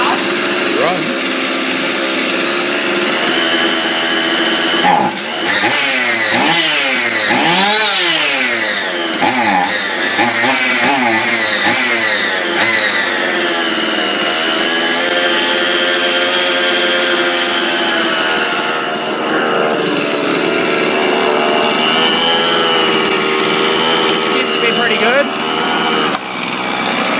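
A Husqvarna 55 chainsaw runs loud and close for the whole stretch, its two-stroke engine idling high and revving up and down with rising and falling whines, while a person talks briefly over it.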